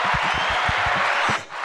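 Dense, sustained clapping from an audience at a youth motivation event in the Bronx, held steadily before dipping briefly near the end, with low murmurs mixed underneath.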